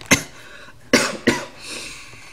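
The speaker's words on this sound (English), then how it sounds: "Yeah, so I've been coughing a lot recently." Three sharp, close coughs from one person, a single cough followed by two in quick succession, with a little breathy trailing noise after.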